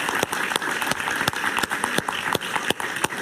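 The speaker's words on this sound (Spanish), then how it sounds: "Un aplauso para Jaime." Steady studio audience applause after a host's thank-you on a Spanish-language political talk show, dense clapping throughout with a few sharper claps standing out.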